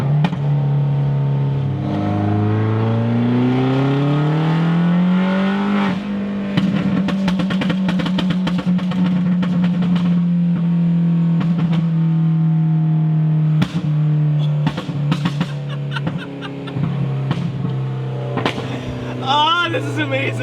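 A tuned car with its boost turned up accelerates hard, the engine note climbing through gears with distinct shifts, loud and close from inside, punctuated by clicks and blow-off chatter.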